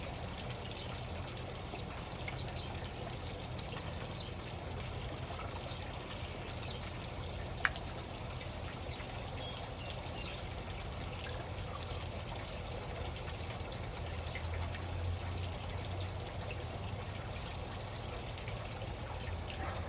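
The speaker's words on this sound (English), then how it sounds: "We'll rinse out the chlorine side." Water runs steadily while the chlorine side of a pool water test kit is rinsed out, a constant soft wash of flowing water with no talk over it.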